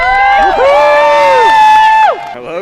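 A crowd at Disney's Hollywood Studios cheers and whoops loudly for Goofy, a sustained burst of shouting voices with high-pitched squeals that holds for about two seconds before dropping off.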